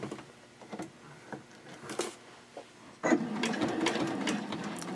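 Sewing machine stitching fabric for a small mini-backpack card holder, with short stop-start bursts of rapid mechanical chatter, then a longer continuous run, close and fairly loud.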